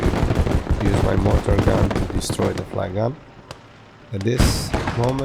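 Flak gun fire in the WW2 Eastern Front game Gates of Hell: Ostfront, with sharp gunshot bursts under continuous narration and a louder cluster of blasts near the end.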